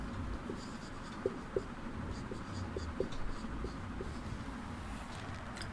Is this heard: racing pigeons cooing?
no